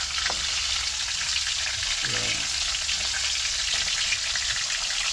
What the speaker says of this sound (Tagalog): Nagprito ako ng ulam guys.